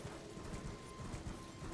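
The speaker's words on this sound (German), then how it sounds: "Okay, Pferd ist scheinbar hier." Horse hooves clip-clop steadily in the Elden Ring video game, a continuous mid-level rhythmic clatter layered over dense game ambience with no speech.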